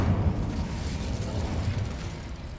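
Incendio fire spell cast in the Hogwarts Legacy video game, a dense rumbling whoosh of flames with low crackling bursts, steady and fairly loud throughout.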